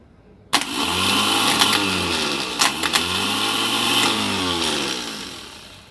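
A car starter motor on a bench test kicks in abruptly and whirs loudly with a rising and falling whine, clattering as the Bendix drive engages, running steadily for several seconds before tapering off.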